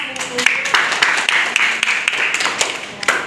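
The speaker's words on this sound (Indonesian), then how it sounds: "Beri aplaus untuk kelompok 1" Classroom audience applauding a student group after a chemistry equilibrium lesson, a steady spread of clapping filling the whole moment at close range with a few voices mixed in.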